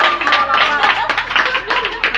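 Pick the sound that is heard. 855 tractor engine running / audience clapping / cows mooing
audience clapping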